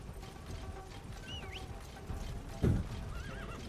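D-Horse in the video game Metal Gear Solid V gives a couple of short, high whinnies, with a heavier thud and clatter midway through, over a steady game background noise.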